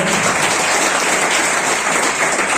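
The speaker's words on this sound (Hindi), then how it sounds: "सर के लिए एक बार जोरदार तालियां।" A school Teacher's Day audience bursts into loud, dense applause, a continuous wash of clapping from many hands filling the whole short stretch with no talk over it.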